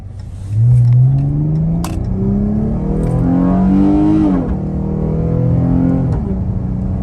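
A V6 Chrysler 300S engine roars up to high revs while driving in snow, rising in pitch through several gear changes, loud and close with a steady rumble underneath.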